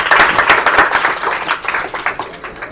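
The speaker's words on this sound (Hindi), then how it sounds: "जरा जोरदार ताली" An audience claps in a quiz-style classroom game show, giving a short burst of dense, fairly loud applause that tapers slightly over a few seconds.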